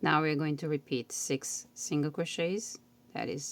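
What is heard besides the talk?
No everyday noise stands out behind the speech.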